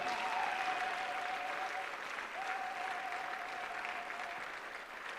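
A church congregation at a mass prayer gathering claps for the Lord in steady, sustained applause, with a faint held keyboard tone running beneath it.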